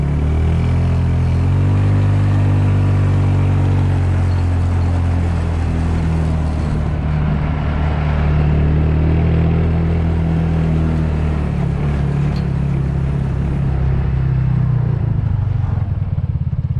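A Yard Sport YS 200 go-kart engine runs at full throttle, a loud, steady buzzing drone that holds for many seconds, then changes pitch near the end as the kart slows, with no talking.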